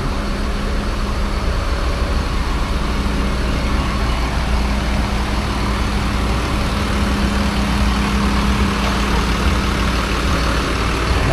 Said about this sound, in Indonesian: Ini ada nih bus Bagong